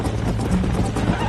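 A horse whinnies briefly amid a dense, noisy backdrop with hoof-like clatter, in the video game Red Dead Redemption.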